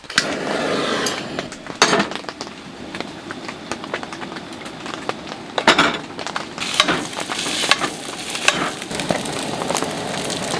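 Stir-fry of broccoli and onions with soy sauce and sesame oil sizzles steadily in a pan at a rainy Jeep campsite, a continuous frying hiss broken by intermittent clatters and scrapes of stirring.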